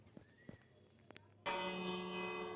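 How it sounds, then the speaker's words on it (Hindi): A village bell in a video game rings out suddenly after faint scattered taps, a sustained bright metallic tone that holds on and lingers. "इस बैल से बजाने से विलेजर अपने घर में जाते हैं, राइट?"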